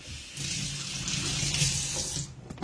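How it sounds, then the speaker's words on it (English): Tap water runs steadily into a kitchen sink for hand washing, a broad hiss that starts after a brief pause and cuts off near the end, followed by a couple of small clunks. "I'm going to wash my hands."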